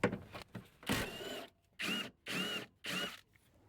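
Power tool or impact wrench working the 17 mm upper shock bolt on an Acura MDX during rear shock replacement, several short bursts of whirring rattling at close range, with brief gaps between them.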